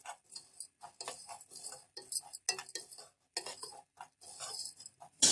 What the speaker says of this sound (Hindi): अब हम इसको घी के अंदर मिक्स करेंगे।